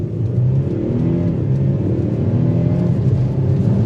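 An Audi SQ5 TDI with a diesel V6, in stock condition, pulls away from a stop in first gear, its steady low engine drone heard from inside the cabin, loud and continuous with a rising tone throughout.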